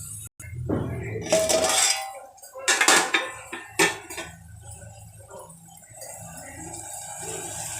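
A metal lid clanks onto a pan of curry with onion, green chilli and tomato, giving several sharp clinks and rattles in the first few seconds. A softer, quieter simmering hiss continues afterward.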